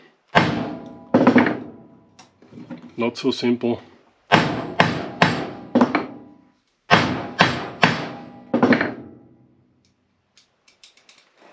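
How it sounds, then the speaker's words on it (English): Metal hammer strikes on a nut, locking it onto a replacement antenna ground spike, land in quick bursts of two to four sharp, ringing blows, with brief pauses between groups and a short spoken remark in the middle. "to lock this nut in place, I simply take a hammer."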